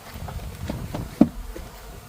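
A faint, steady insect buzz with short flickers as it moves, and a single sharp tap partway through.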